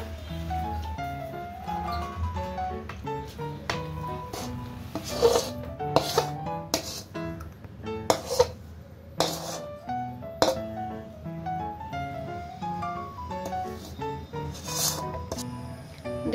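Roasted sesame seeds are scraped from a pan into a bowl with repeated rasping, gritty strokes of a utensil against the metal. The scrapes come in irregular bursts, close and clear, with no talking.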